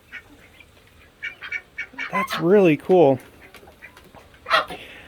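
A backyard flock of ducks quacks in a burst of loud, close, nasal calls, a few quacks in quick succession, while a person talks nearby.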